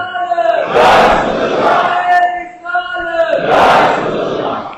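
A large religious gathering roars back a slogan in loud, massed chanting, two big swells of many voices answering a preacher, dense and reverberant.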